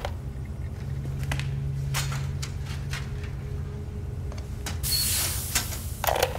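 A machine's back panel being opened, with a steady mechanical hum, scattered creaks and clicks, and a louder scraping slide of the panel near the end, close and alone.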